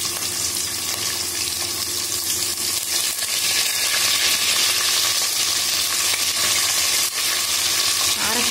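Garlic and small shallots sautéing in a pan for rice and lentils, giving a dense, continuous sizzle close by and fairly loud, with occasional stirring.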